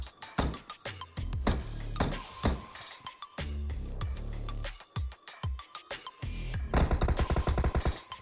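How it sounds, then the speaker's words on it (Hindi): Rapid bursts of automatic and single gunfire from the battle royale game BGMI on the Erangal map, loud and close with clinking metallic accents, firing in uneven clusters and ending in a fast rattling volley. "अरे कहाँ से गोलियाँ चल रही हैं"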